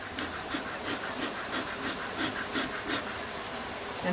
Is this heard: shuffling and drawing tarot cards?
no